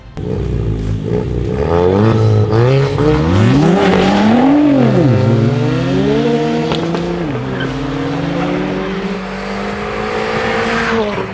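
A Ford Fiesta ST fitted with a big brake kit drag races a 550bhp Nissan GT-R, engines revving loud and close with rising and falling gear-change sweeps and tire squeal running throughout, no talk.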